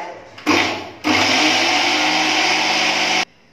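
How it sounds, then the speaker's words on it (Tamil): An electric mixer grinds dry ginger and coriander into powder in a loud, close, steady whirring burst after a brief first pulse, then stops abruptly. "ரொம்ப ஃபைன் பவுடராக அரைக்கிறாரு."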